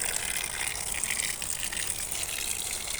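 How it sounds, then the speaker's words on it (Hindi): Water pours steadily onto potted plants in hot weather, a continuous gushing splash held in measured amounts, close by and fairly loud with no speech. "थोड़ा हिसाब से ही पानी डाल रहा हूँ ताकि ज़्यादा भी ना हो जाए।"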